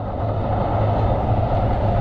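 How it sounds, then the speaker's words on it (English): A cargo train passes near a riverside fishing spot, a loud, steady rumble with low rolling drone and constant wheel noise throughout, no voices. "Just missed that, but that's a cargo train."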